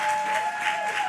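An audience at a community outreach session applauds, a dense, steady wash of clapping from many hands that sounds moderately close, with a faint tonal hum running underneath.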